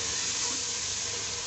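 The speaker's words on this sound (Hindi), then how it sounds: "उनको अच्छी तरह मिक्स करेंगे और भून लेंगे।" Ginger-garlic paste, tomato and spices for chicken pulao fry in a pan with a steady, close sizzle and hiss that stays even throughout.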